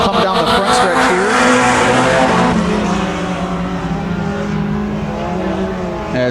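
Mini stock race cars thunder past on a dirt track during heat races, loud engines roaring and whining in overlapping pitches that rise and then fade slightly as the pack moves down the front stretch.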